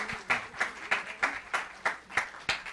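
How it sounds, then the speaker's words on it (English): Audience clapping at a Functional Forum event on Lyme disease, heard as a steady run of fairly even, rhythmic claps at moderate level, with no talking over it. "Have a round of applause for Latham Thomas."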